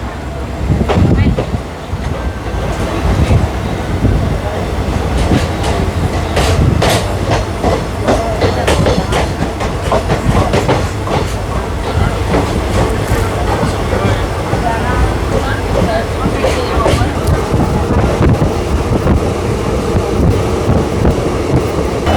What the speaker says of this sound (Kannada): ನಮ್ಮ ಟ್ರೈನ್ ಜೋಡಿ ಕ್ರಾಸಿಂಗ್ ಆಗತ್ತಿದ್ರಿ ಈಗ ಹುಬ್ಬಳ್ಳಿಯಿಂದ ಮೈಸೂರಿಗೆ ಹೋಗುವಂಥ ಹಂಪಿ ಎಕ್ಸ್ಪ್ರೆಸ್